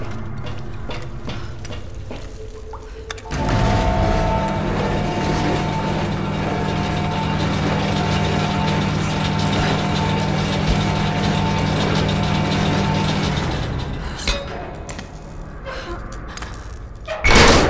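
Large elevator machinery in the Tomb Raider video game, a loud sustained mechanical grinding and rumbling drone that starts abruptly, runs steadily for about ten seconds, then cuts off with clanks.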